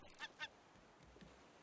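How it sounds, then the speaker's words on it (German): A bird cries out in the survival game Raft with two short, honking calls in quick succession, fairly close and then fading into quiet ambience. "Ja, das war ein Vogel gewesen."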